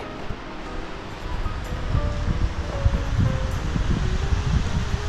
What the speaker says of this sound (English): That is a tall waterfall.